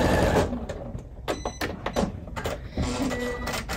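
A sewing machine back-stitches the end of a seam on a fabric shoe bag, giving short mechanical bursts of whirring and clacking with brief pauses, close and fairly loud, with no voices.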